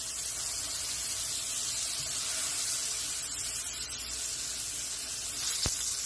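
Salmon frying in a pan with garlic butter, a steady close hiss and crackle of sizzling fat that holds an even level throughout, with one brief sharp click near the end and no voices.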